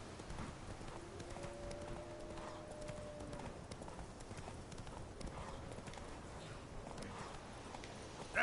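Hooves of Roach, the horse in The Witcher 3, clop at a steady walking pace, close and even, across open ground beneath a low ambient game soundtrack with a faint tonal drone.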